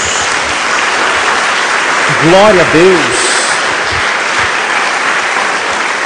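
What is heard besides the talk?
applause for Jesus in church service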